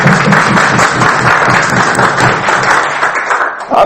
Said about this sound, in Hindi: खुद के लिए एक जोरदार ताली।